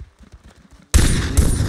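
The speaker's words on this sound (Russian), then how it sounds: "Сейчас покажу вам, как работает стрельба." Soft talking gives way to a sudden, loud stream of rapid gunfire in Far Cry 3 on Xbox Series S that keeps going.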